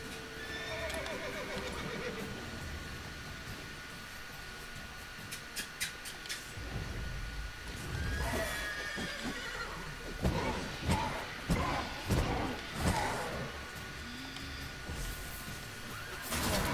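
Horse in The Witcher 3 neighing and snorting while hooves clip-clop over ground, mixed with game ambience and scattered thuds; steady, fairly loud, with a voice speaking over parts.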